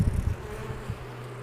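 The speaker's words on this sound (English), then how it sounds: "Busy little bees." Honeybees buzz steadily from an open hive during inspection, a low continuous drone that stays close and even throughout.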